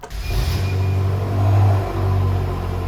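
A BMW M5 F10 engine revs at a workshop, a loud, steady low rumble that swells to a peak around the middle, dips briefly, then holds again, heard alone without talk.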